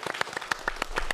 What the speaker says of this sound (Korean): 박수 감사합니다